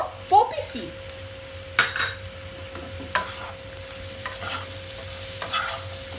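Asafoetida and poppy seeds frying in a pan, with a steady low sizzle under scattered sharp clinks and scrapes of a spoon stirring against the metal.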